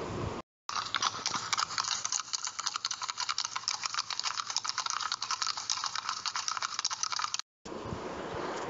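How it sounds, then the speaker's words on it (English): Rapid, steady clip-clop of horse hooves taps along in a quick rhythm, fairly close, with brief silent gaps at the start and end. "You will hear the beat of a horse's feet"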